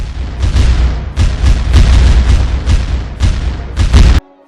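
Loud, rolling booms of cannon fire in rapid succession, heavy and close, ending abruptly.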